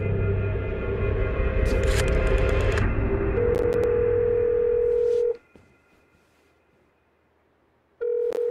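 A telephone in the video game Syberia The World Before: a rapid burst of dialing tones over a steady tone, then a long held tone cut off into near silence before the tone returns, no talk.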